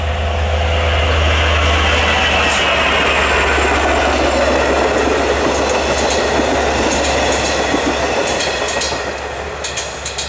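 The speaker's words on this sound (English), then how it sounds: "Oh yeah, that train was definitely haunted." A train rolls steadily past at close range, a loud continuous rumble with clickety-clack rail noise and squealing wheel tones, fading slightly at the end.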